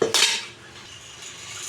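Cooked mutton and tomato masala is poured into a curry pot, giving a brief sharp metallic clatter of pot and utensil that fades into a soft, quiet hiss.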